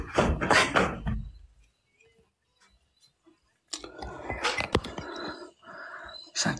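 A door is pulled, giving a few sharp clunks and scraping knocks, set between stretches of near silence and louder rustling noise.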